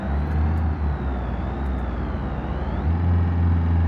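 A steady, droning car engine in the video game BeamNG.drive, a company car lacking power, hums continuously at moderate loudness, with low tonal rumble and a faint rising whine, no voices.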